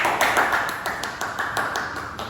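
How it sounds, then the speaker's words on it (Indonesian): A classroom claps for a student group during a science micro-teaching lesson, a steady run of crisp, evenly spaced hand claps at moderate volume, with no talking over them. "silahkan dulu tepuk tangan untuk kelompok 1"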